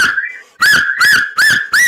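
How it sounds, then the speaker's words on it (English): A person whistles loudly in a cheer for the Chennai Super Kings cricket team, giving four sharp, rising whistle blasts in a steady rhythm after a softer opening tone. "Chennai super கிங்ஸ்க்கு பெரிய whistle போடுங்க"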